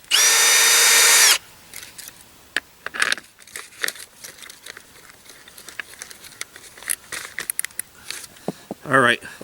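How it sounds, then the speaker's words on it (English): A power auger roars briefly and loudly as it starts boring into lake ice, then cuts out, leaving crunching and scraping of ice chips while someone talks. "we'll drill one right here"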